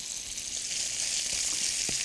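Bacon and cabbage sizzle steadily in a frying pan, a close, continuous crackling hiss with a few faint knocks from the pan, and no talking.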